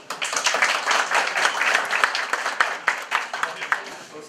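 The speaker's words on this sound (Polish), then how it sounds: "Jeszcze raz wielkie brawa." Audience at a local community honours ceremony in Cegłów applauding, dense clapping that swells and then thins into scattered claps, with voices underneath.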